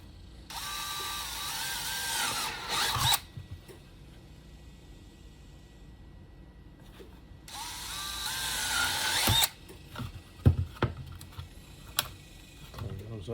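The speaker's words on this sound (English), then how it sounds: "let's drill those out" A power drill whirs in two separate bursts a few seconds apart, each rising in pitch, drilling out holes on a Glock 19 build, followed by clanks and light handling noises.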